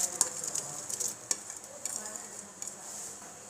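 Onions frying in a pot for degi mutton korma, a steady hissing sizzle with occasional light clinks and stirring scrapes, close and moderately loud.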